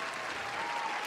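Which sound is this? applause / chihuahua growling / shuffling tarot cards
applause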